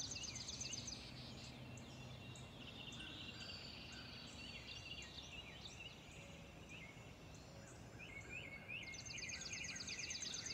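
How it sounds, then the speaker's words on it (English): Many birds sing and chirp in a dense outdoor chorus on a quiet, cool early morning at sunrise, with high trilling calls running steadily throughout and a busier burst near the end. "You hear the birds, they're singing."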